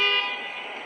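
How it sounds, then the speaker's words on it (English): Waymo self-driving cars sounding their horns at night in a San Francisco Bay Area parking lot, one sustained tonal honk that starts loud and slowly fades, with no voices. "the honking is actually a feature that Waymo, which is owned by Alphabet, implemented"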